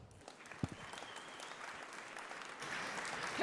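An audience at a conference stage applauds a speaker with steady, fairly distant clapping that swells slightly toward the end.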